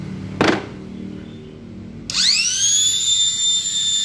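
A die grinder grinds the corners of a scooter's roller track, starting abruptly midway with a loud, steady high-pitched whine that holds to the end after a brief thump and quiet stretch.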